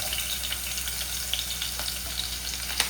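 Onions fry in oil in a clay pot for a paarai fish curry, a constant close sizzle with scattered crisp pops and crackles, no voices over it.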